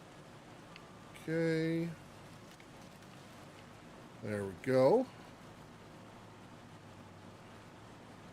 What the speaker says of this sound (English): Boy, we're getting some big hail